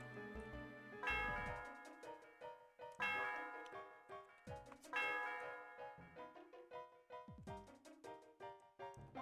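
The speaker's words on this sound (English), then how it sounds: "The sound of the bell reverberates through the area." A tower bell rung in the video game Pokemon Black/White 2, a series of bright chiming bell strikes with ringing, reverberant tails that repeat in bursts over about nine seconds.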